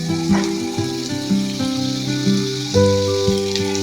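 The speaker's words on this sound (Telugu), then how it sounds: "కాకరకాయలు కొద్దిగా ఫ్రై అయినాక" Sliced bitter gourd fries in hot oil in a pan with a steady close sizzle, broken by a few soft clinks and stirring knocks.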